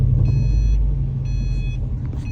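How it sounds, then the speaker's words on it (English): A car engine runs in first gear with a light touch of throttle after a transmission rebuild, giving a steady low rumble with faint whining tones above, loud and continuous with no talking. "Go into first gear, a little bit of gas."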